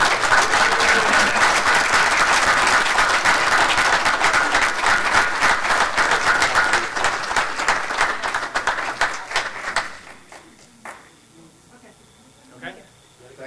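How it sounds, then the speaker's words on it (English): Loud, sustained applause from a comedy roast audience fills most of the stretch, then thins out and fades to scattered claps near the end. "let's give them one last round of applause"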